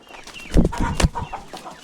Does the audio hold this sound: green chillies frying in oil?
no